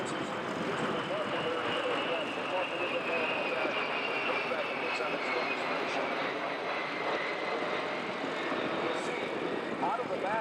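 A large KC-135 tanker aircraft at an airshow, its jet engines giving a steady distant roar that holds level for about ten seconds.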